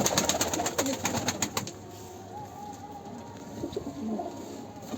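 Soft, low cooing of a tumbler pigeon heard faintly through outdoor ambience, after a burst of rapid clicking at the start.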